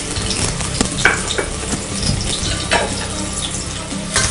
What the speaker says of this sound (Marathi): थोडं थोडं ते कांद्याला परतून घ्यायचं.